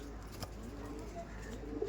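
Soft cooing from Punjabi Tatira pigeons, a rare breed, faint and close over a steady low background hum, with a few brief rises in loudness.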